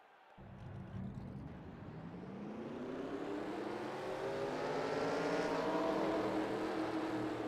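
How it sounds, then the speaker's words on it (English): Race car engines in a racing video game at Talladega fire up together into a dense, rising roar that swells steadily louder over several seconds, with no talking. "Drivers, start your engines!"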